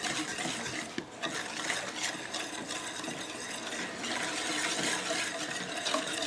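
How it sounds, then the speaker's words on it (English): Sugar being stirred into blackberry jelly in a pot, a steady wet swishing and scraping with soft liquid churning that runs continuously and close, with no talking. "it's time to add the sugar. Okay. Stir all this up."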